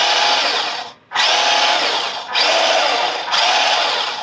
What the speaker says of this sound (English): this is the throttle, or the power to the rear wheels